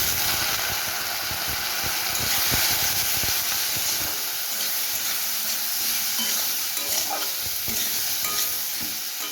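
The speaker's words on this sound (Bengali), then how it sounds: "এবার আমি মশলাটাকে একটুখানি জল দিয়ে করছি" Masala of spices and turmeric sizzles steadily in a pan with a little water, for a vegetarian papaya ghonto, a loud continuous frying hiss with stirring scrapes throughout and no talking.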